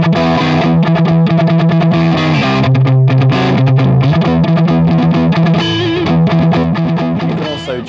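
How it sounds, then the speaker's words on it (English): An electric guitar played through distortion from a Digitech iPB-10 pedal board rings out loud and sustained, chords and bent notes blending into a thick, continuous, effected tone. "As for the distortion, I'll play some and you can decide that for yourself."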